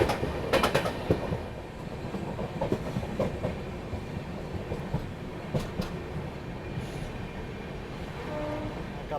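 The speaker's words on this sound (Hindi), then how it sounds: "सुजालपुर स्टेशन फिलहाल अपनी ट्रेन पहुंच रही है।" The Malwa Express rolls into Shujalpur station in India with a continuous rumble and clickety-clack of wheels over rail joints, a few sharp metallic clanks early on and faint squeals near the end.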